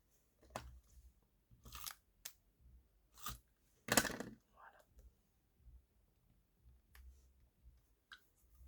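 A tape glue roller is run over paper in a few short bursts of dry clicks and crackly rasps, close and fairly quiet, with one louder crunching pass midway and quiet gaps between.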